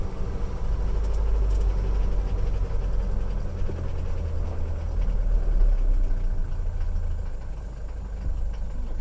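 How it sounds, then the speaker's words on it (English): A Mercedes-Benz W115 240D diesel idles in park after a short drive, its steady low rumble loud and close throughout with no talk over it. "Idle's gone up quite a lot already."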